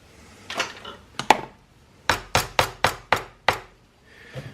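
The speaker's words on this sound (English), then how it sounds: "that little hammer has just been working really good for me. So, just tapping them guys right down in there." A small hammer taps pins into a knife handle during a handle build, giving about eight sharp, close metallic knocks in a steady rhythm with brief pauses between them.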